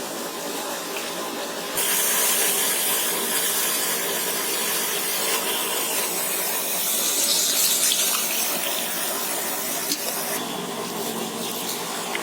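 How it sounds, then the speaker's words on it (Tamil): Basmati rice for mutton biryani is washed under a running tap, a continuous loud splashing and spraying of water that carries on steadily and alone for several seconds. "இப்போ நம்ம அரிசியை கழுவி அடுப்பு பற்ற வைக்கிறதுக்கு முன்னாடியே ஊற வச்சிடணும்."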